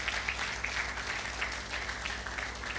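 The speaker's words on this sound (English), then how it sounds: "Let's give him a hand clap," Sustained applause fills a formal finalists' dinner for a medical graduating class, steady dense clapping from a crowd that runs the whole length without any talk over it.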